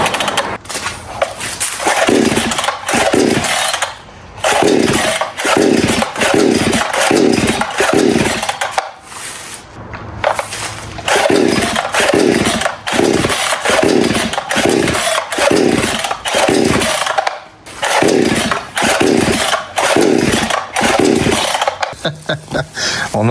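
Starter rope of a Temu chainsaw yanked hard over and over, a steady run of loud, close rasping pulls with brief pauses in between, no engine catching.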